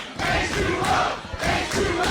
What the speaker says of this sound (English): this crowd is loving all the action